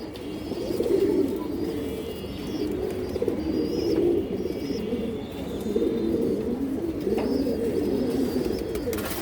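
Khaki flying pigeons coo in soft, repeated throaty rolls, several birds close by, overlapping in a continuous murmuring rhythm with occasional faint chirps.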